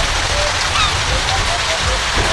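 Steady rain pours in a BabyBus children's game, a dense even hiss of drops falling throughout with faint bright chimes above it.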